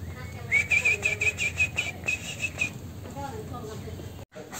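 Budgerigars kept in a tree's shade on a hot day chirp in quick, bright, repeated trills near the listener, then give softer scattered calls, with someone talking over them.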